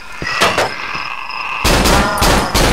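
Gunfire in the horror game Cry of Fear: a few loud, close shots in quick succession, each with a short booming tail, over a steady low game ambience.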